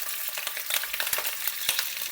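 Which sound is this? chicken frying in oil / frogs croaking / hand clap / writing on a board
chicken frying in oil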